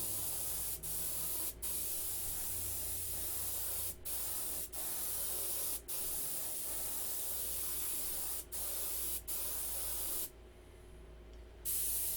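Continuous hissing spray from a paint sprayer applying green paint to a P-51 model airplane, steady and close, broken by several brief pauses and a longer gap near the end.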